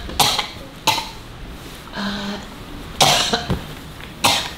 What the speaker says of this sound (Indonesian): Ibu batuk-batuk.